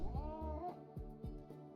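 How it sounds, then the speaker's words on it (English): A cat enemy in a combat video game lets out a series of drawn-out, wavering meows, with each cry rising and falling, heard quietly over a low game soundscape. "You gotta finish that cat off."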